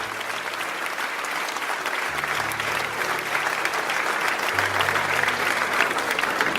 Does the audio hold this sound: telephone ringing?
no